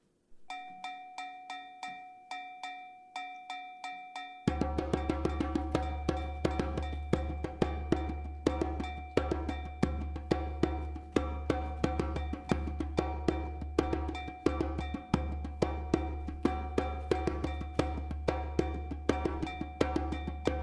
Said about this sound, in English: And with the slow drum track.